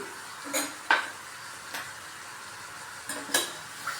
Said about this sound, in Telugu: ఒక నిమిషం వేగిన తర్వాత దీంట్లో బియ్యం వేస్తానండి ఇప్పుడు రైస్ వేస్తున్నాను